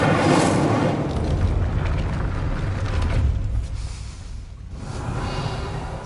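A fire spell blast in a Hogwarts video game: a loud, sustained whooshing roar with a deep rumble that stays steady across the moment, dips briefly near the end, then swells again, with no talk.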